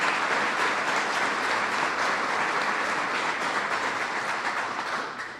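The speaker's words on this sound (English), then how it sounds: "Let's give all of these great public officials a rousing round of applause" An audience at the White House applauding public officials at an infrastructure summit, a sustained dense wash of clapping from a large room that holds steady and then fades slightly at the end.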